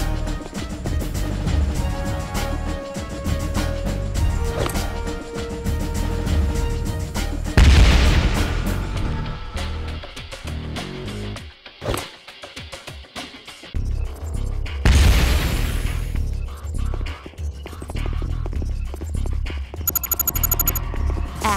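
Grenades go off in a Kill Switch video game training level, deep booming blasts that each roll out into a long rumble and debris clatter, several of them spaced across the stretch, loud and close.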